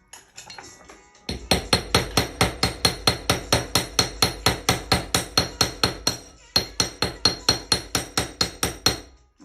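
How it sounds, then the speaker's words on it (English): A hammer strikes a wire wrap ring to texture the metal, delivering a long run of sharp, evenly spaced metallic taps, loud and close, with one brief pause partway through. "So what I'm going to do now is take my hammer, and I'm going to add some texture to the piece."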